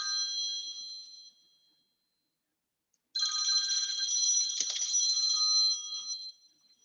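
A phone rings nearby with a steady electronic ringtone, sounding in two bursts separated by a short silence, with no talking over it.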